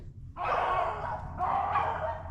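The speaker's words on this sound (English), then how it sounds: "The dogs just opened up in here." Rabbit hunting dogs in Pennsylvania bay on a scent, two close, loud barking bursts in quick succession with no one talking.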